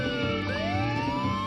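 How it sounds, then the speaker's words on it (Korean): A police siren wailing at a distance, its rising tone sweeping upward over steady background hum, fairly faint and continuous. "사이렌이 진짜 많이 울리면 저 심장이 두근두근거리고"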